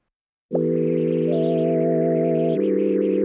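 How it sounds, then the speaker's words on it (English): A synth tone through a resonant low-pass filter in vowel mode starts abruptly and holds steady, its harmonics shifting and a high partial coming and going. "that filter, I've got it on vowel mode, low pass filter"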